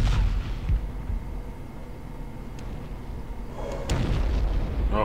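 Tank main gun firing in the video game ArmA: Cold War Assault during a Cold War armored battle against T-72 and T-80 tanks. Heavy booming cannon blasts land near the start and again around four seconds, over a low rumbling battlefield background.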